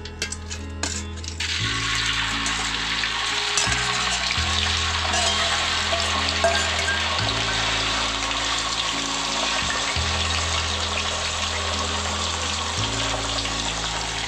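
Tofu crackles and sizzles steadily in hot oil after a few clinks at the start, with a low hum running underneath.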